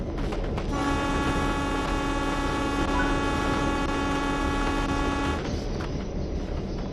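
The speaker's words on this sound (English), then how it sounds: "Sound the horn." Santa Fe locomotive horn in Train Sim World 3, a sustained chord blaring steadily for about five seconds over constant rumbling engine and rail noise.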